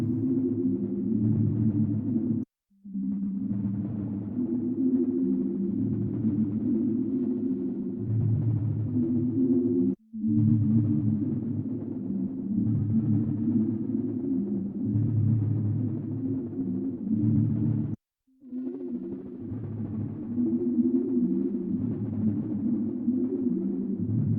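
A Strymon NightSky reverb pedal sustains a dense, droning pad whose modulation shape makes it swell and wobble in slow, regular pulses, cutting out briefly three times before the wash resumes; no voices.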